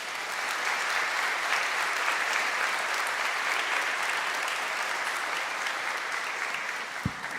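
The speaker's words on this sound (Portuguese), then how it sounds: "Quantos podem aplaudir a Jesus?" A church congregation applauds during a Portuguese-language evangelical service, a dense, steady wash of clapping that holds loud and even for several seconds before a brief knock near the end.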